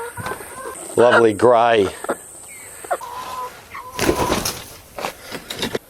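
Orpington chickens, a placid grey breed, cluck close by while a person speaks briefly over the calls.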